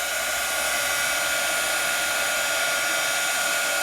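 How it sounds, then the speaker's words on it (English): A Sizzix heat tool blows and hums steadily, held close to melt embossing powder on a crafted panel. The airflow stays loud and unbroken throughout, with no talking. "And I'm using a Sizzix heat tool,"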